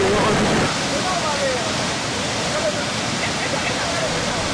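Rushing water of the Karfiguéla waterfalls in Burkina Faso, a steady broadband roar that stays loud and continuous throughout, with a faint voice briefly audible underneath.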